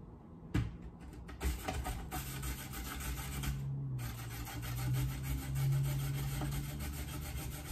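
Carrot sticks being cut on a Tupperware mandoline with a grid blade, a run of repeated close rasping strokes with brief pauses, steady and moderately loud throughout.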